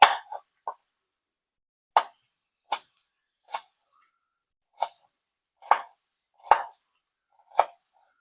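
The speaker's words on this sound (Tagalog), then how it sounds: "Gagayat ako ng sibuyas para sa mga sausawan." Onions being sliced with a knife on a cutting board for a pork and tofu dish: eight or so crisp, separate chops spaced unevenly about a second apart, close and clear against silence.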